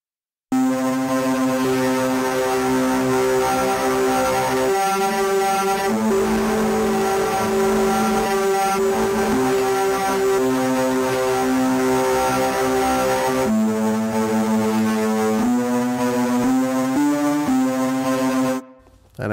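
A Guitar Fury sample library patch plays a dense, sustained buzzing drone like a hornet's nest, with layered harmonics that hold steady and shift pitch in steps before cutting off.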